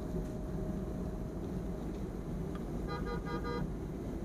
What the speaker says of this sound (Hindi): मेरे पीछे ना मुझे हॉर्न दे रहा है बिकॉज उसको जल्दी है।